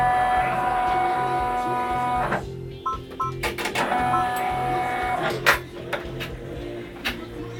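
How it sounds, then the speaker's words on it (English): Embroidery machine stitching the letter O in light lilac thread, a rapid mechanical chatter of needle strokes with short pauses and sharp clicks of thread trims, close and fairly loud. "right now it's going to stitch the letter O for me."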